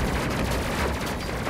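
Weapons fire in a space combat video game rattles in a dense, continuous barrage of rapid impacts and booms, loud and close, with a voice faintly mixed underneath.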